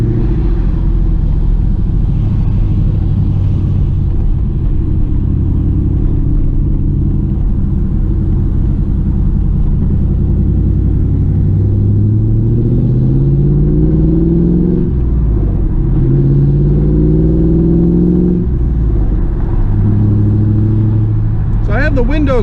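A 2001 Pontiac Trans Am's engine hums and rumbles steadily while driving, rising and falling in pitch as it shifts gears, with road noise from open windows.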